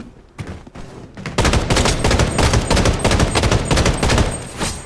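Gunfire in the shooter game Blood Strike, sharp rapid bursts of automatic shots firing in quick succession, loud and close, following a few scattered single shots at the start.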